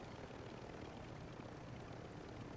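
A helicopter in Call of Duty DMZ sets down with a dense, steady rotor and engine roar that fills the whole moment at a moderate level, with no talk over it.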